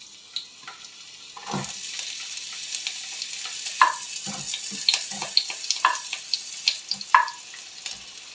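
Onions sweating in rapeseed oil in a frying pan sizzle gently, with soft crackles and scattered stirring clicks over a quiet, steady hiss.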